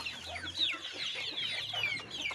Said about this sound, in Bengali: দেখেন মুরগির ঘরে আরও অনেকগুলো মুরগি আছে